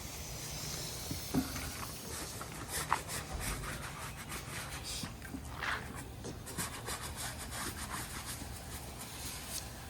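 A brush scrubs firefighter gear around the air cylinder on a breathing-apparatus pack during post-fire decontamination, giving faint, repeated rubbing strokes in an irregular rhythm with no speech.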